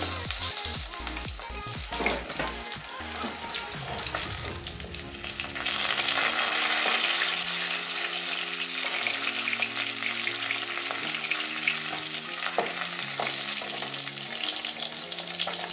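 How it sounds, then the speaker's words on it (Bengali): Pieces of rui fish frying in oil give off a dense, continuous sizzle with some stirring noises, close up, over faint low tones in the background. "এই যে দুই দিকেই একটু লাল লাল করে ভেজে নিয়েছি।"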